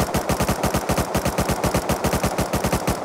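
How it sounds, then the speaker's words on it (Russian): Rapid automatic bursts from an MP5 submachine gun in the video game Rust, a loud, steady stream of evenly spaced shots running for about three seconds with no voices. "Теперь послушаем, как он стреляет, звук стрельбы и темп."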